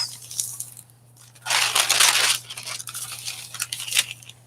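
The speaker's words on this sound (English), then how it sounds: "our green piece of deli paper, which has a fun crinkly noise to it" Green deli paper crinkles for about four seconds in a winter holiday gluebook, with scattered crisp rustles, one louder sustained crunch in the middle, and further crackles close up.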